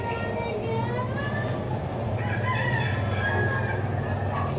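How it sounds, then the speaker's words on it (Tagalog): A native chicken crows and clucks nearby over a dense background of farmyard noise, while people talk throughout. "Native na manok."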